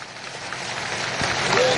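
A crowd claps steadily at an outdoor political rally in Kondagaon, the applause dense and continuous and swelling slightly louder toward the end.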